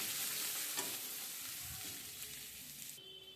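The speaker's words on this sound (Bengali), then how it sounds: "এটাকেও আমি সুন্দর করে এখন মশলাটাকে কষিয়ে নেবো" Spice masala with chilli and coriander powder sautéing in a pan for a mushroom curry, a soft close sizzle with occasional stirring scrapes, quiet and steady, no talk.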